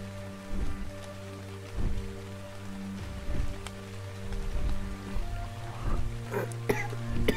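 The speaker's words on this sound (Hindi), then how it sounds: "वापस से बारिश रुकने का वेट करो।" Rain falls steadily in the video game ARK: Survival Evolved, a continuous patter over a low ambient hum, with occasional louder thumps and a few brighter splashes near the end.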